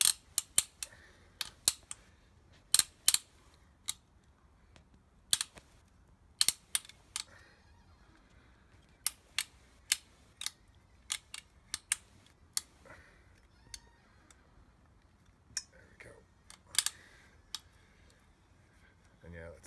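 A pipe cutter is turned and tightened around a scooter bar, making sharp metallic clicks and ratchety ticks in irregular bursts. The sound is close, with short pauses between turns.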